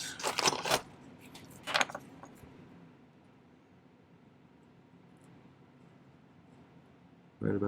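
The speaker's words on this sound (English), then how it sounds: "I'm just going to snip it off and then file it" Jewelry cutters snip off the excess prong wire on a delicate prong-setting pendant, giving two sharp metallic clicks close together early on, then near silence.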